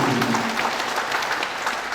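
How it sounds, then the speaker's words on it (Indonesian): An audience applauds a guest professor at a regional Muhammadiyah assembly in Yogyakarta, a fairly quiet but steady wash of clapping from a seated crowd with no speech on top. "Tepuk tangan untuk Prof. Kim."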